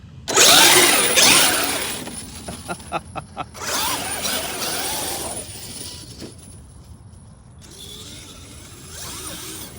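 A Traxxas X-Maxx RC truck with a Hobbywing 800kv motor and Max5 ESC powers up. Bursts of whirring motor noise come up close, with a quick run of rhythmic beeps and rattling mechanical handling in between.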